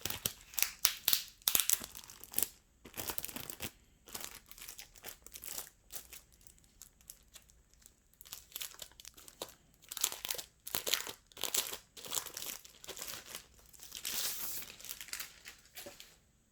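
Cardboard and plastic packaging around a 14-inch metal Asus Chromebook Flip C434 being opened, with crinkling and tearing in irregular bursts separated by brief quiet gaps, close and without talk.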